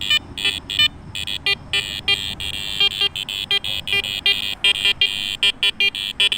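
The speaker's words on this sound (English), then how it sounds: "can hear the iron going on in the background" Garrett Ace Apex metal detector sweeping over an Indian head penny amid iron nails: a continuous buzzing iron drone chopped by rapid, irregular higher beeps and cutouts, with a steady background hum throughout.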